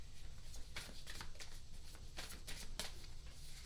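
Tarot-style cards shuffled for a reading, a steady papery riffle with several sharper bursts of flicking cards, close and alone with no talk.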